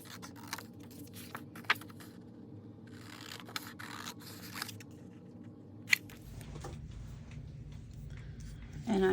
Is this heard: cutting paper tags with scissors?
yes